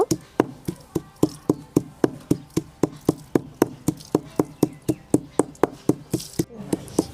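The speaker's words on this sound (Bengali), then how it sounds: "আমি কাঁচা লঙ্কা নুন আর ধনে পাতা কীরকম সুন্দর করে থেঁতো করে নিয়েছি" Green chilies, salt and coriander leaves being pounded with a pestle, about twenty sharp even thuds in a steady rhythm, close and alone with no talk.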